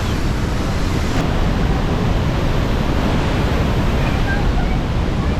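Niagara Falls thunders in a dense, unbroken roar with blowing spray and wind buffeting the microphone, very loud and close throughout.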